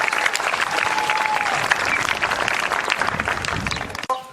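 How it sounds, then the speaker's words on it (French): An audience at a school group's church-style gathering applauds steadily, a dense continuous clapping that holds at full strength for several seconds before breaking off abruptly near the end. "Est-ce que nous pouvons acclamer le Seigneur?"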